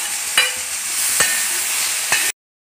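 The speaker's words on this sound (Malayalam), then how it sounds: "എണ്ണ ചൂടായിട്ടുണ്ട്. നമുക്കതിലേക്ക് നാരങ്ങ ഇട്ട് കൊടുക്കാം." Lemon pieces for pickle hit hot oil in a pan and fry with a steady, loud sizzle, broken by three sharp stirring clacks, then it cuts off abruptly.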